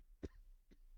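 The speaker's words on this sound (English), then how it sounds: "we're coughing" A single sharp cough up close, followed by a fainter second cough a moment later, in an otherwise quiet room.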